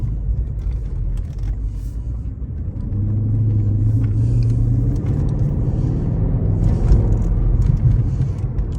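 A Mercedes AMG engine rumbles low and deep inside the car and rises in pitch as it accelerates, with a steady road roar beneath it.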